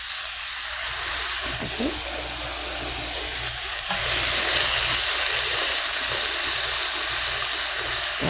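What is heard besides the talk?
sliced garlic frying in a pan for Korean stir-fried pork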